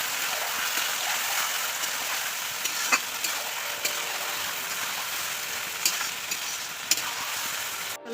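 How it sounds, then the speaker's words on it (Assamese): Marinated meat sizzles and fries in hot oil in a karahi, a steady broadband crackle with occasional stirring clinks and pops, close and continuous with no talking. "এতিয়া মেৰিনেট কৰি থোৱা মাংসখিনি ঢালি দিছোঁ। এতিয়া মাংসখিনি ভাজি লওঁ।"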